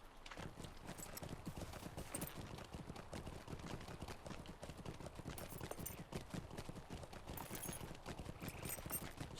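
Horse hooves clip-clop continuously in the LOTRO video game, a fast, even gallop that stays at a steady, moderate level throughout.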